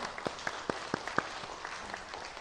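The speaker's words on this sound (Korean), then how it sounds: "큰 박수로 축하해 주십시오" A few people clapping sparsely and unevenly in a church during a Sunday service, with distinct individual claps rising and then fading within a couple of seconds.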